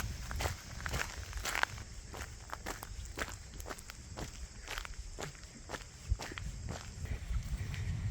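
Running footsteps on a trail heading down toward a campsite, a steady quick series of close, crunchy footfalls alone with no talk.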